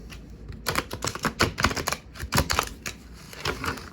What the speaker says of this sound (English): Cards don't pop out for me very often when I'm shuffling.